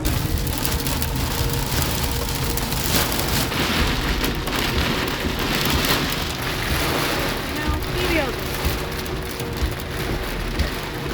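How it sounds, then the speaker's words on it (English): Heavy rain during a thunderstorm pours in a dense, constant hiss with spattering drops and low rumbles, loud and close throughout. "On the ride home that day, there was a thunderstorm."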